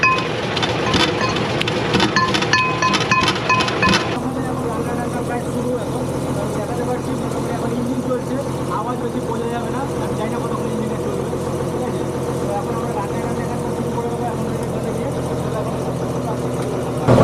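A boat's engine runs on a Sundarbans river trip, a steady droning rumble that continues throughout, with a brief harsher rattling burst at the start.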